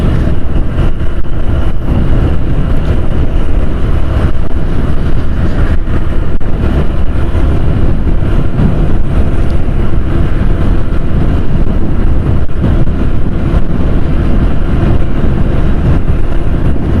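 Motorcycle riding at about sixty km/h, steady loud engine drone and heavy wind rush buffeting the microphone throughout, no voices.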